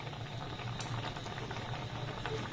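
A sugarless sweet of chhana and milk with a pinch of saffron bubbles steadily in a pan over a low-to-medium gas flame, a dense continuous boil with soft popping bursts, close and alone without any voice.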